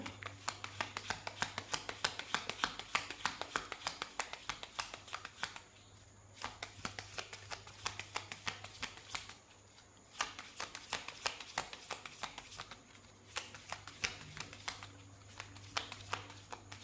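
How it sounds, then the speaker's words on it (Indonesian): Tarot cards being shuffled by hand in a quiet room, a soft continuous riffling and slapping with two short pauses, close and faint, with no voice over it. "saya shuffle kartunya dulu ya"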